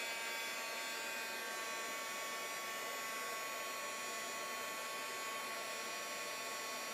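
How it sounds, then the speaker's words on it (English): A heat gun blows over embossing powder on a tag, a constant loud whooshing drone with a faint whine that holds unchanged from start to finish. "I'll grab my heat gun and just heat that up to emboss it"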